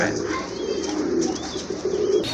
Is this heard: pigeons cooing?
yes